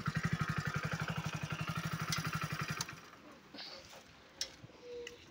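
A motorcycle engine idling with a rapid, even thudding putter that cuts off abruptly a few seconds in, leaving faint ticks, birds and quiet outdoor background.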